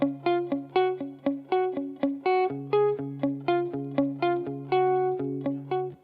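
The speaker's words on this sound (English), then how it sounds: "So here's what I'm playing without the delay." A plucked instrument plays a steady run of clean repeated notes with no delay effect, each note attacking sharply and decaying before the next, over a sustained low tone.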